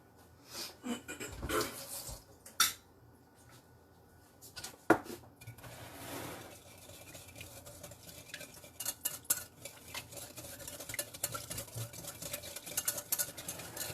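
Liquid ingredients with strawberry extract being mixed in a bowl, with repeated clinks and scrapes of a utensil against the bowl in an irregular rhythm, close up, with soft breathing.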